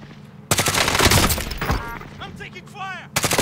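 Gunfire in the Warzone video game, with rapid bursts of automatic shots, loud and close, separated by short pauses while voices talk between them.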